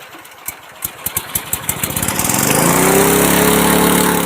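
A small engine-driven water pump by a river sputters with a few uneven pops, then settles into a steady, loud running drone with a low hum that continues to the end.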